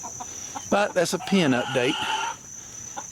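Chickens in a temporary pen cluck and call close by in a short burst of warbling, rising and falling notes, with a steady high insect-like drone underneath and someone speaking briefly.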